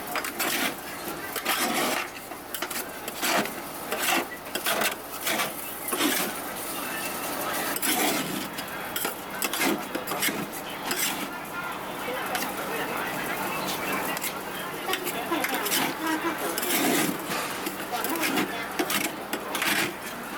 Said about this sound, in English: so he has to continuously stir fry it.